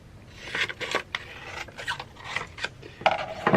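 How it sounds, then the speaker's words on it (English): A photo print is trimmed for a sublimation project, giving faint, close, scratchy cutting and rubbing strokes in short irregular bursts. "So I'm gonna cut my photo that much"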